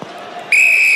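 A referee blows a sharp, loud whistle at a USAP versus Biarritz rugby match, one sustained shrill blast lasting about half a second over faint crowd murmur.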